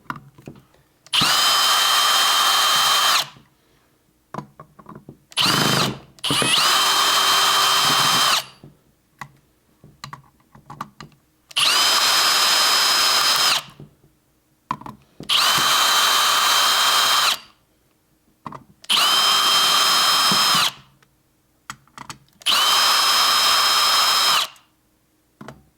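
A power drill backs out small screws while an ADJ Element Hex IP light fixture is taken apart. It gives about six loud, close whirring bursts of roughly two seconds each, separated by silent pauses.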